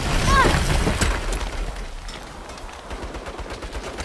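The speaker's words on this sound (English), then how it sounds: "Turrets! Take cover!" Turret gunfire erupts in the Saints Row reboot video game, dense crackling bursts with a loud blast at the start that fades into scattered shots.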